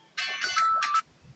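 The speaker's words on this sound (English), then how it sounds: "And we got a phone call as usual, which usually we delete them and just get rid of them." A phone ringtone sounds during an incoming call on an outdoor deck, while English peas are being shelled: a clear, fairly loud electronic melody of a few quick tonal pulses lasting about a second, with no talking over it.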